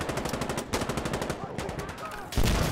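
Rapid automatic gunfire in the video game Insurgency Sandstorm rattles out in loud, fast, evenly spaced bursts that pause briefly and resume, heard up close with no speech.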